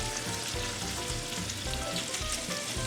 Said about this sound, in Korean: 팬이 달궈지면 삼겹살을 넣어주세요.